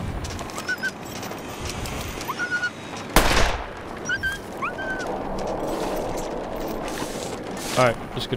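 A single loud rifle gunshot in the survival video game The Long Dark, a sharp broadband crack midway through a quiet outdoor scene with faint bird chirps and wind around it.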